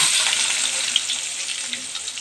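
Chopped onions sizzle in hot oil while a Tamil-style cluster bean stir-fry is being made, a bright, steady crackling fry heard close up with a faint stir, no voices.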